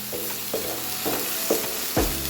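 Chana masala paste frying in oil in a pan as it is stirred, with a steady sizzle under a few evenly spaced scrapes of the spoon, close and moderately loud, no talking.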